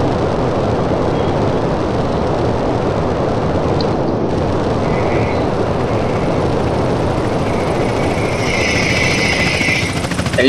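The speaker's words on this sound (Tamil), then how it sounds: "ஹெலிகாப்டர் போற மாதிரி கேக்குது." A helicopter flies in the game GTA San Andreas, its steady broadband rotor and engine roar loud and continuous throughout, with a faint higher whine appearing toward the end.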